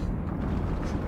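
A thermal explosion in a video game, a dense sustained roar of low rumble filling the whole moment with no pause, loud and close.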